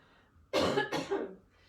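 Two quick, harsh coughs from a dry throat close to the listener, the second slightly weaker, in an otherwise quiet moment.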